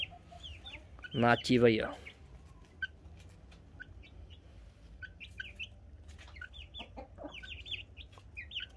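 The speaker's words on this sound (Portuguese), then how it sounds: "E as galinhas lá." Chickens feeding on leaves in a backyard coop cluck in scattered bursts, with a louder squawking flurry near the start and soft calls continuing throughout, while someone talks intermittently.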